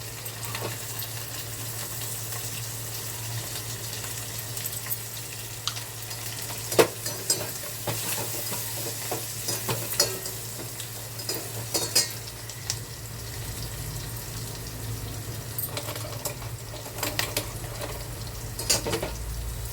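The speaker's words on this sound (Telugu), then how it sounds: "ఫ్రెండ్స్ ఇంకా వేగాలి" Root vegetables fry with turmeric in an Andhra-style pan, giving a continuous low sizzle and occasional utensil clinks and scrapes.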